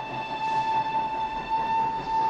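A steam train's whistle in Schindler's List, a steady sustained tone held across the whole stretch over low rumbling noise, with no voices.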